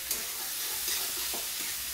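Usal, a sprouted bean curry in spices, sizzles and fries steadily in a pan while being stirred, with soft scraping strokes over the constant hiss and no voices.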